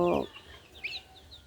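A short, low cluck from a desi chicken at the start, followed by faint chirps in the background.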